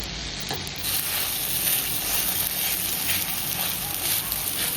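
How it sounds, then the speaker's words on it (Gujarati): Uttapam batter sizzling in oil on a hot griddle, a loud, even, close hiss that holds steady throughout with faint stirring or spreading scrapes and no voices. "તો આપણે અંદર તેલ નાખીશું લોટી ગરમ થઈ ગઈ છે તો આપણે એની અંદર બેટર એડ કરીને આપણે ધીમે ધીમે પાથરવાનું છે"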